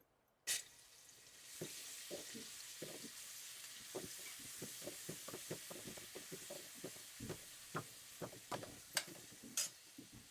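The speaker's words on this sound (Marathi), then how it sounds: "तेल गरम झालेले लसूण कोथिंबीरची पेस्ट टाकणार आहे।" Garlic and coriander paste hits hot oil for a Marathi drumstick curry with black masala, giving a faint, steady sizzle broken by many sharp clicks and clatters of a spoon stirring in the pan.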